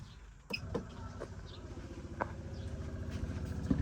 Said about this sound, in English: when I turn this pump switch back on now, the pump will run on for a few seconds or so as it repressurizes that boiler